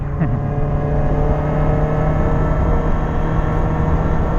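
Several motorbikes idle and rev together at a gathering before a group ride to Sukhirin, a steady loud engine drone throughout with no talking.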